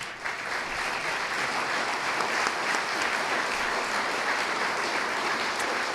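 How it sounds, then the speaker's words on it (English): Audience at a morning candidate forum for the 41st Congressional District in Riverside applauds steadily, a dense, even wash of clapping that holds loud throughout with no talk over it. "one more round of applause for our candidates"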